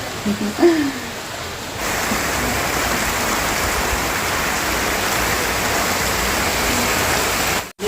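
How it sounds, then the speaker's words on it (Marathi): Heavy rain pours down in a loud, steady roar after a brief quieter moment with a faint voice at the start. "जोराचा पाऊस आला"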